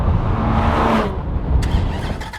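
A Porsche Cayman, a rear-wheel-drive sports car, passes on a race track, its exhaust note loud and droning before it tails off, followed by fainter engine and track noise.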